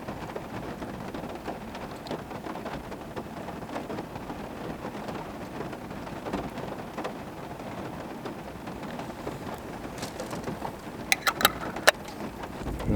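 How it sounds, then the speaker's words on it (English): Rain falls steadily on a truck camp on a stormy night, a dense even patter with a low rumble beneath, and a few sharper taps near the end. "oh yeah, rain's coming down now."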